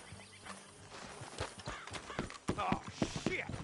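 Horse hooves clip-clop in the Red Dead Redemption 2 video game, steady rhythmic hoofbeats with an occasional whinny, close and moderately loud, mixed with game sounds and light talk.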